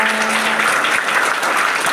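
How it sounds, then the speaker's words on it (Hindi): Loud, steady applause from an audience at a Veer Bhagat Singh Yuva Dal function, welcoming the national head of Rashtriya Vyapar Seva Sangh; dense clapping fills the whole stretch without a break. "एक बार इनके लिए जोरदार तालियां"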